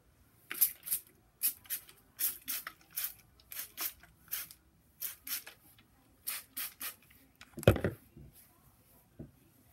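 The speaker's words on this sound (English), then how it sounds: "spray my hair just to dampen it" Repeated short hissing bursts from a spray bottle of plain water misting hair close by, a couple dozen quick pumps in irregular clusters, with a louder rustle near the end.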